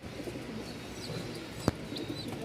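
Pigeons coo softly at a pigeon market in Mirpur-1, Dhaka, low murmuring calls under a busy background hum, with one sharp knock partway through.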